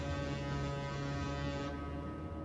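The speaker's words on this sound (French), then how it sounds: "vous entendez un bruit, comme un klaxon. Une espèce de corne." A foghorn sound effect from a Call of Cthulhu tabletop scenario set in fog: one long, steady, deep blast held throughout, moderately loud with a buzzing edge and no voices.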